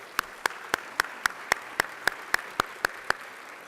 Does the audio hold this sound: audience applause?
yes